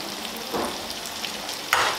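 Tomato paste and fresh tomatoes fry in a pan with a steady close sizzle and crackle, broken by brief stirring scrapes.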